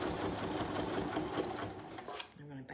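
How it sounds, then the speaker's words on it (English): A sewing machine back stitching a patchwork roof piece at a quilting event, its fast steady whir running continuously under nearby talk before easing off at the end. "I'm gonna back stitch."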